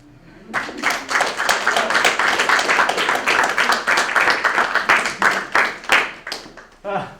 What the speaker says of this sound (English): Stop the applause.